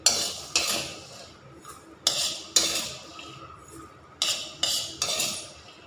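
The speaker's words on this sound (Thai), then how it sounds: "ตักขึ้นเลยนะ" Metal utensils scoop cooked Lao vegetable soup out of a pot in a few sharp, clattering strokes, each scrape and clink close and loud with short pauses between, no voices.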